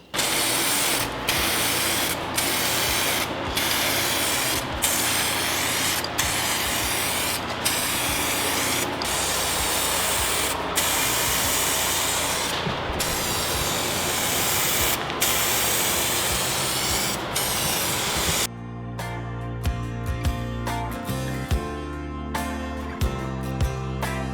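2K primer is sprayed onto the body panels of a rotary shifter go-kart as a loud, continuous close hiss broken by brief regular pauses. After about eighteen seconds it stops and gives way to quieter mechanical handling noises.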